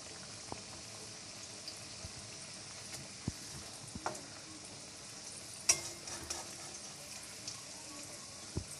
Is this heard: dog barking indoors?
no